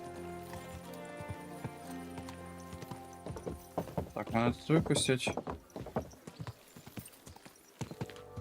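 Horse hooves clip-clop in Kingdom Come Deliverance 2, starting as a rhythmic trot that grows louder and busier in the middle and then slows to scattered steps, with someone talking and a horse snorting over it.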